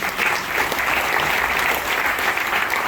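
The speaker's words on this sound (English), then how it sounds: "Can we get a round of applause for her, please?" Steady, loud applause from a crowd, continuous clapping throughout with no pauses.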